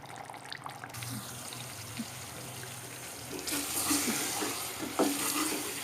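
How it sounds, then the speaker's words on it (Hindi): Pressure-cooked meat with tomato and yogurt frying in a pan for shaljam gosht, steady close sizzling with scraping stirs, growing louder and busier in the second half. "तो अब ये मैं इसको भून रही हूँ।"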